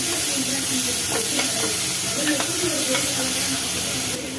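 Grated coconut and guava being sautéed in a pan for guava chutney give a steady soft sizzle and hiss, with a few light stirring scrapes, close and continuous.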